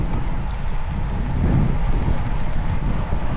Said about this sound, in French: Je suis en plein vent là.